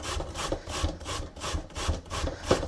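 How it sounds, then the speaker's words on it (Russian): Zucchini rubbed on a coarse grater gives close, rhythmic rasping strokes, about eight in quick succession, with no talking. "у меня 2 цукини. Я хочу их просто на крупной терке"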